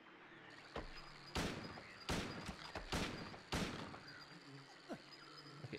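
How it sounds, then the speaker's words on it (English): Gunfire in the Silent Hill 2 horror game: four or five loud, sharp shots spaced irregularly over a murky ambient background, with a few quieter thuds between them. "maybe I can just shoot my way out"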